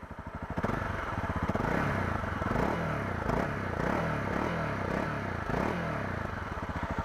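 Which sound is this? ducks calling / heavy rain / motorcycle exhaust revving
motorcycle exhaust revving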